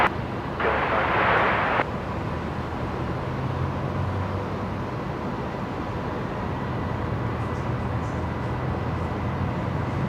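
A jet aircraft departs Brisbane Airport, heard as a distant, steady low rumble with a brief burst of broadband noise near the start, muffled and continuous across the scene.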